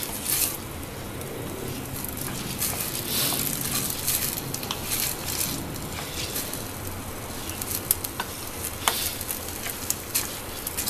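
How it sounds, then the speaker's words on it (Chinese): Glutinous rice being stir-fried in a wok, giving a steady close sizzle with scraping and crunching of the spatula against the pan throughout, no voices. "炒佢一陣先。"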